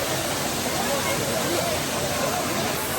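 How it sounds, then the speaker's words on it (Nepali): Rain falls steadily in a cold hill setting, making a loud, even broadband hiss that stays unbroken for the whole stretch, close by with no distinct individual drops. "पानी परिरहेको"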